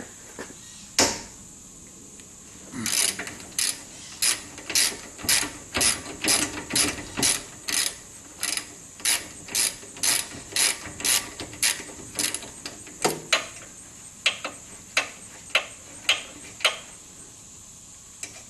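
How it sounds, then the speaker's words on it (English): Ratchet wrench working 13 mm brake caliper bolts loose on a car: a steady train of sharp, evenly spaced clicks, close and clear, with one or two heavier clunks from the bolt. No talking. "First thing we're going to do is take the caliper bolts off. These happen to be 13 millimeter."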